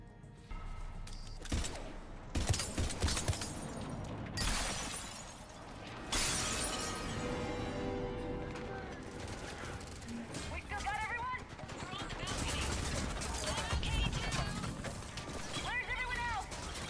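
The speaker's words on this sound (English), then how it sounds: "They threw a shit ton of grenades at you" Grenades going off in Mass Effect 3, several sharp bursts and shattering blasts scattered through a chaotic combat scene, with gunfire and someone talking over the action.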